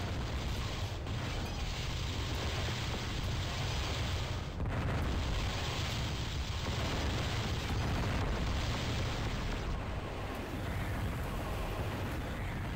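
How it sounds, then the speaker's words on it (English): Missiles launch and blow up in the Descent game, a continuous roaring barrage of explosions with a few sharper bursts standing out, constant and moderately loud with no one talking. "It's like 6 missiles."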